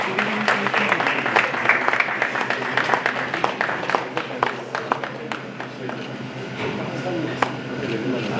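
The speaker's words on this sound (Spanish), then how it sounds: "Un aplauso para el señor Oscar Gabilondo, por favor." An audience at a press event applauds a man invited to sing, with crisp, scattered claps running throughout under some overlapping voices.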